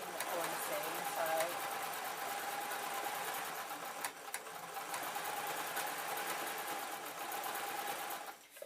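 A sewing machine stitches steadily through fleece at the corner seam of a zebra-print bootie slipper, a continuous near motor hum carrying under a person talking.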